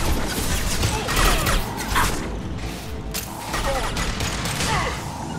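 Dense gunfire from a Mass Effect 2 firefight rattles in a continuous loud barrage, mixed with mechanical clanks and impacts, sustained almost without pause throughout.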